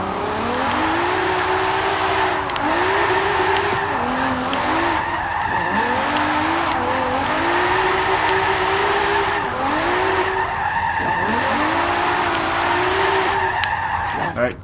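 A 1971 Nissan Skyline 2000GT-R in Forza 7 revs hard near the redline through repeated rising pulls and gear shifts, with skidding tyre squeal over a continuous loud engine note and a voice talking over it.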